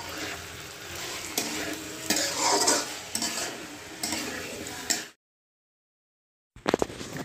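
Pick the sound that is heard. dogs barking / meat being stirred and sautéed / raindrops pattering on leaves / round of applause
meat being stirred and sautéed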